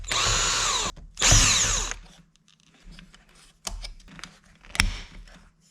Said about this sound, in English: 2 more screws here to get this push button out.